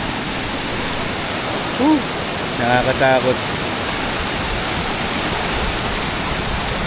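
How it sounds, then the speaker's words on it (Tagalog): A river current surges during heavy storm rain, making a loud, unbroken roaring rush close by, with a person briefly speaking over it. "At palakas ng palakas yung agos ng ilog dito."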